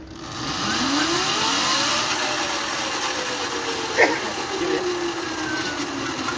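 A motorcycle engine revs up and settles, a steady mid-pitched drone with pitch sweeps rising and falling, fairly close, with a brief sharp knock midway.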